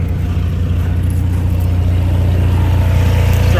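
A freshly started generator runs smoothly, a loud, steady droning engine hum heard up close without any speech.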